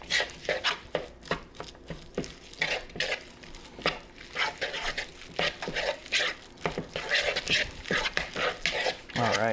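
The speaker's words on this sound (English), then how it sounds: "Go ahead and mix it all up to make this nice little creamy, cheesy mixture" A spoon scrapes and clinks irregularly against a bowl while a creamy, cheesy spinach and bacon filling for stuffed chicken is mixed, with repeated close, sharp knocks.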